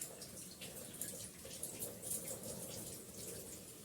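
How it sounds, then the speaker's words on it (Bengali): A tap runs while a catla fish is rinsed under it, making a soft, steady splash and patter of water with faint drips, even and quiet throughout. "একদম কল খুলে ধুয়ে নিচ্ছি"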